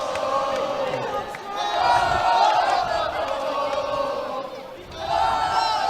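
Loud, roaring cheers and whoops fill a Jeffersonville, Indiana gym before tip-off at a boys high school basketball game, rising and falling in waves, dipping briefly before surging again.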